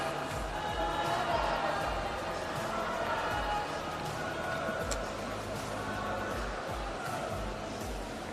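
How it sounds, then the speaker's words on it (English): Crowd cheering for a swimmer at the Victorian Age Long Course Championships, a steady wash of supporters' noise from an aquatic centre with a voice talking over it. "So the cheering behind me is they're going for Metin from Laverton Wyndham Aquatics"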